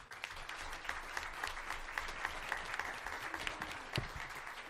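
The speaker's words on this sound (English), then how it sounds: "So please give yourselves a round of applause" Steady applause from students, teachers and board members at a regular school board meeting, a dense continuous patter of many hands sustained at a moderate level throughout, with no talking over it.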